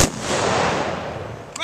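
A funeral rifle volley fires as one loud, sharp crack at the very start, its echo rolling out across open ground, with a brief faint sound near the end.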